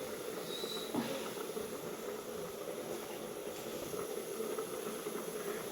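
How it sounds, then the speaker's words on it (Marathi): Steam hissing steadily from a pot of chicken cooking on a home stove, a soft continuous hiss with no pauses and no talking. "वाफ निघायला लागली"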